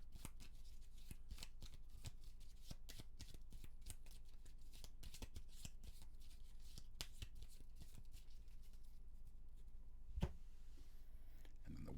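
Gloomhaven board game cards shuffled by hand, a steady run of crisp, rapid riffling clicks that continues throughout, close and fairly quiet, with a single sharper tap near the end and no talking.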